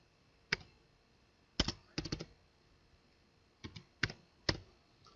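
Several short bursts of keyboard typing, clustered clicks separated by pauses, close and fairly quiet with no talking.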